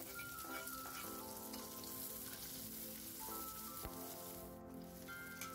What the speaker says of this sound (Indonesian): Sekarang kita tumis terlebih dahulu bumbunya